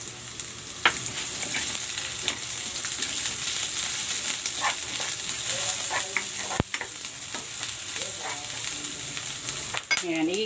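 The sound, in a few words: sautéing garlic and onion in cooking oil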